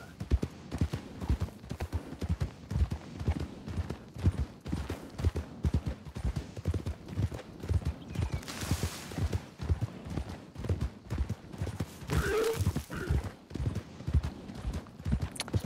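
Horse hooves clip-clop steadily and continuously in the Red Dead video game, a near, regular walking rhythm of thuds with a couple of brief bursts of louder noise layered over it.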